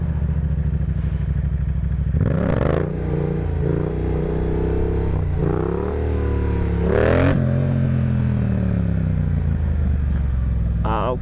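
A Yamaha FZ07 sport bike revs hard during wheelies, loud and close, its engine note rising and falling in several surging pulls with a steady rumble between.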